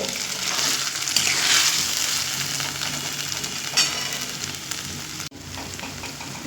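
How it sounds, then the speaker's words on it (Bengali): Chicken mince sizzles steadily in a hot pan on a medium flame, with a continuous bright crackle broken by scraping stirs and one brief knock near the end, close and alone with no voices. "সেই চিকেন কিমাগুলো দিয়ে দেব দিয়ে মিডিয়াম ফ্লেম করে আবারও সাত থেকে আট মিনিট খুব সুন্দর করে কষিয়ে নেব"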